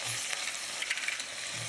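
Tomatoes and ginger garlic paste sizzle and fry steadily in a pan for mutton biryani, a continuous close hiss with faint stirring, no talk.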